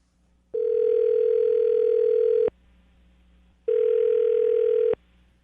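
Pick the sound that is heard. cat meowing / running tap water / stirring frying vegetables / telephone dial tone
telephone dial tone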